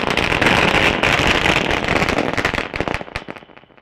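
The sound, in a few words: firecrackers bursting during fireworks display at cricket match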